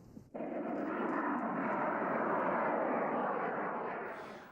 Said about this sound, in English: The rocket fuel is burning its fiercest about 2 seconds after ignition.